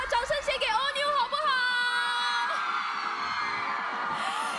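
A fan audience in Singapore greets the singer with high-pitched screams and whoops over crowd noise. The shrill cheering swells at the start and then holds as a sustained, bright roar.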